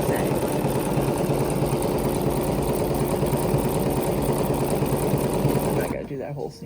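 A Bernina sewing machine runs a miniature zigzag stitch in a fast, even mechanical whir that holds steady close by, then cuts off near the end, with a voice talking over it.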